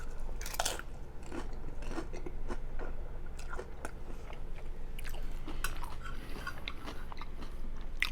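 Close-up chewing of soggy chips: steady, wet, mushy bites with soft crunchy crackles, continuous and near, with no talking.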